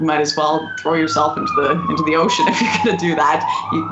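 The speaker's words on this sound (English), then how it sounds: "Sorry about the sirens out there." A wailing siren sweeps down in pitch outside, clearly audible under a person talking nearby.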